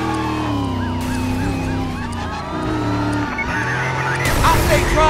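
Police car sirens wailing loudly in the Driver San Francisco video game, several overlapping rising and falling tones sweeping continuously over engine noise, with a brief burst of tire or crash noise near the end.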